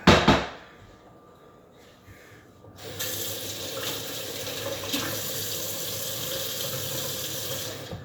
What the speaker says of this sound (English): And then just put a splash of water in there.